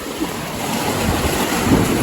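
Big ocean waves break on a beach, a continuous broadband roar with surges and wind buffeting the microphone, loud and close with no talk.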